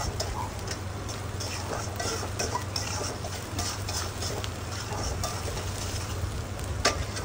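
A utensil scrapes and stirs frying chepa shutki (dried fish) curry in a pan, the sizzle steady beneath irregular clicking strokes throughout.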